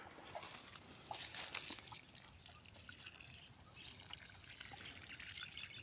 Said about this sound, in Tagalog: kailangan din nating basain natin ng tubig